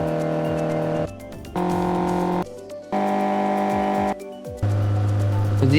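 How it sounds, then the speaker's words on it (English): Kart engines in Mario Kart 8 Deluxe hum and drone at steady pitches, broken by brief gaps and shifts in tone, with a faint squeal between segments and a louder, lower engine note at the end. "Are these the car noises?"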